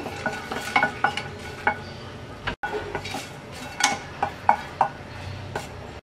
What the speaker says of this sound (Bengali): শুকনো মরিচ আর তেজপাতা দারচিনিটা আমরা একদম অল্প আছে 1 মিনিটের মতো ভেজে নেব।